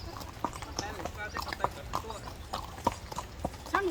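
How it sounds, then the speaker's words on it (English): Horse hooves clip-clopping along a tropical trail during a horseback ride toward a waterfall in Costa Rica, a steady uneven rhythm of close, sharp knocks with people talking over it. "The horse running, I'm scared."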